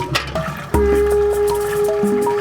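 Dirty kitchen water is poured into a filter container, a sudden sloshing splash followed by trickling and dripping with a few ringing tonal notes.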